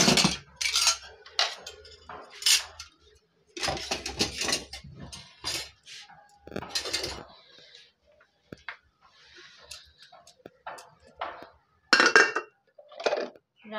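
Metal pots, pans and pressure-cooker parts are washed by hand at home. Bursts of clattering and bright clinks come close and fairly loud, separated by short quiet gaps.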